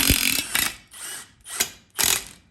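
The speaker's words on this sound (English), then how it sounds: "take this old good electric impact here" An electric impact wrench hammers at a stuck bolt on a bent truck axle in four loud, close, rattling bursts separated by short pauses, with no talk.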